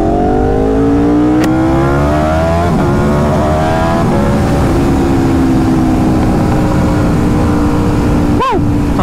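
An Aprilia RSV4 motorcycle engine revs loud and close, a steady high-pitched roar that rises in pitch and ends with a sharp burst of revving near the end.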